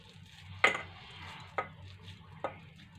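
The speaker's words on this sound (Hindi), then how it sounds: "देखिए इस तरीके से मिक्स कर लेना है।" A spoon knocks against a bowl while veg manchurian mixture is stirred, giving three sharp clinks spaced about a second apart over a soft, steady low hum.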